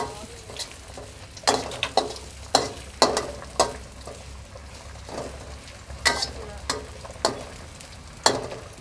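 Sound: frying garlic in a pan

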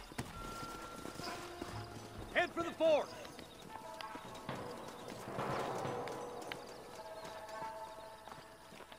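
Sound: horses trotting, from a video game

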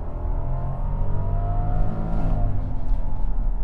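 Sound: Rolls-Royce Cullinan accelerating from a stop

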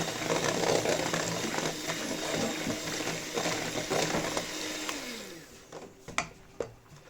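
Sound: electric mixer whisking crepe batter

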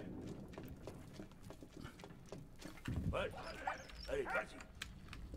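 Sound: dog barking in video game Valiant Hearts

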